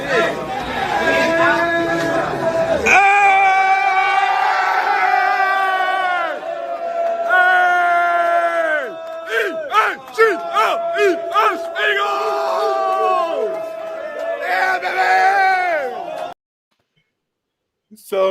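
A crowd packed around a bathroom stall yells, whoops and cheers in loud, overlapping bursts, with shrill voices rising and falling before the noise cuts out abruptly near the end.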